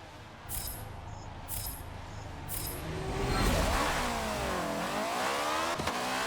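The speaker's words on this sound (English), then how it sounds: "Oh, it's that race car again." A race car engine revving hard in Forza Motorsport 7, growling low at first, then surging and climbing in pitch through several upshifts, loud and close.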